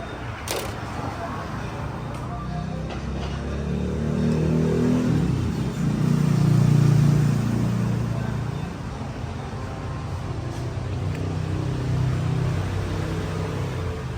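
A Ford Raptor pickup with jerky gear shifts, serviced with fresh transmission fluid, has its engine started and running. A low rumble swells around the middle and then settles into a steady idle.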